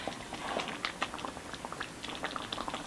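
Onion and tarragon soup simmering in a pot, giving a soft, steady bubbling and popping with irregular little plops, quiet and close with no talking.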